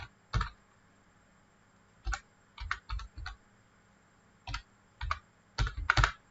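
Short bursts of keystrokes on a computer keyboard, close and clear, separated by pauses, as an address is typed in while signing up for Gmail.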